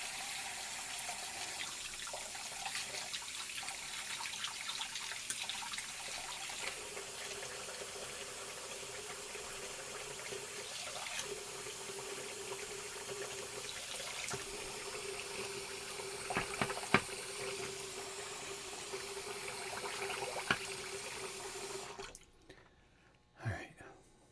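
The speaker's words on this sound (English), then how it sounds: "I'm gonna fill up the sink here." A bathroom tap runs steadily to fill a sink, a soft continuous wash of flowing water at moderate distance that cuts off near the end, with someone talking quietly over it.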